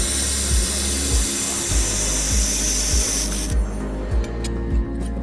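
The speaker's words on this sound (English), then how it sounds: "Let's test how powerful our air-cooled welding machine really is." A 1200W air-cooled welding machine welding 1 mm thin aluminum, steady hissing spray-like crackle with a repeating low thump roughly every half second, close and loud, ending abruptly partway through.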